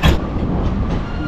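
Train rolling past at a crossing while traffic waits, a continuous close rumble with faint rhythmic wheel clatter after a brief loud thump at the start.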